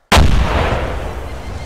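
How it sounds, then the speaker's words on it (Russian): A sudden loud bomb explosion in the game ArmA 2 with the ACE mod bursts out and rolls into a long, decaying rumble. "Давай взрыв."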